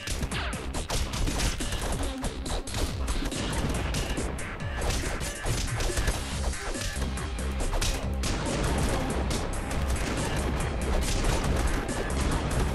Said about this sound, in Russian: бомбы взрываются